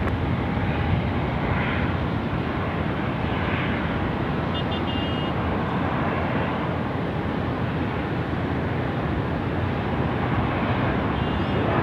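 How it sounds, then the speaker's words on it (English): Boeing 787-8 jet airliner at Sydney Airport, a steady broad engine roar that holds loud and even throughout, with no voices over it. "The Boeing 787-8."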